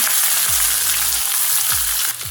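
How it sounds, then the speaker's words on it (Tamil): Fennel seeds and onion sizzle in hot oil while tempering a Tamil-style tiger prawn gravy, a loud, continuous close frying hiss without speech. "சோம்பு போட்டு தாளிச்சிக்கலாம். வெங்காயம் போட்டுக்கோங்க."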